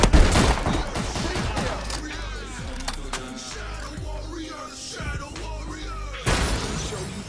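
Rapid gunfire from Call of Duty: Advanced Warfare crackles in dense bursts with shattering impacts, fairly loud and continuous, with faint game voices in the mix.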